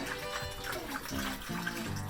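Water pours and splashes from a well filter housing, a continuous fizzing gush close to the microphone, with someone talking over it.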